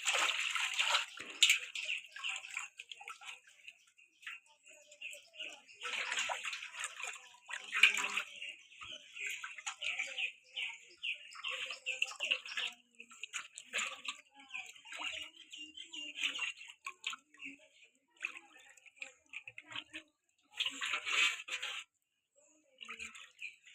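Herbs are swished and rinsed by hand in water, making continuous light splashing and sloshing at close range, in irregular bursts with a few brief pauses.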